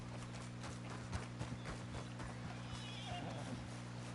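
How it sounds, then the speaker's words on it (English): A horse in the Red Dead Redemption 2 video game gives a whinny over clip-clopping hooves, heard faintly above a steady low hum, with a quiet voice briefly in the background. "Ah, sí tengo cerca mi caballo."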